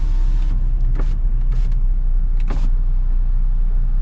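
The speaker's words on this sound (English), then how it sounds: "let me see what the window down sounds like." A power window lowers on a 2025 Jeep Wrangler Rubicon soft top while driving. Several short whirring motor bursts sound over loud, constant road and engine rumble inside the cabin.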